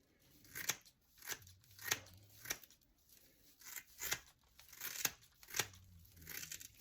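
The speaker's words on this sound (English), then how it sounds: "we're gonna take a pair of scissors and just make sure it's level all the way across" Scissors snip through broomcorn bristles while a whisk broom is trimmed level, a series of crisp, close cuts at an uneven, roughly half-second pace with rustling between them, quiet and unaccompanied by talk.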